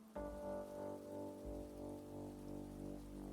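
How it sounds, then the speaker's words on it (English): Soft, steady rainfall in the video game Travelling at Night sits under a sustained, gently pulsing tonal music bed, with no one talking. "The rain's perked up the flowers at least."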